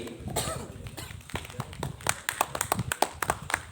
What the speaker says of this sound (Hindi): सभी लोग अनिल शर्मा सर का तालियों के साथ स्वागत करेंगे